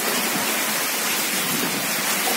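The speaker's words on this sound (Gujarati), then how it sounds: "વરસાદ છે ને થોડો થોડો ધીમો પડ્યો" Steady, dense hiss of heavy rain driven by strong wind, a continuous close wash of noise with no breaks and no voices.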